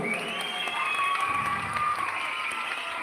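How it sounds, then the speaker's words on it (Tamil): Audience applause at a stage event in Chennai, a dense steady wash of clapping that fills the whole stretch with crowd noise and some tonal sound underneath. "நல்ல ஒரு பெரிய கைத்தட்டல் கொடுக்கலாம்."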